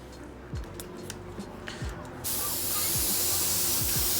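A paint spray gun loaded with gray paint bursts into a loud, steady close hiss partway through and sprays continuously over a compound-coated panel, after quieter clicks and handling noise with faint background music.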